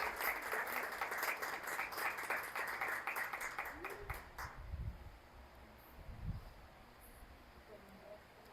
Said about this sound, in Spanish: Aplauda a su padre, te lo está diciendo.